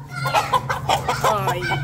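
Roosters pitted in a fight cluck loudly and close, a quick string of sharp, choppy calls over a low steady hum.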